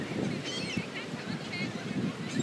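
A flock of seagulls calls at a sandy beach, with repeated squawks and cries of varying pitch over wind and general outdoor noise, and people chatting nearby.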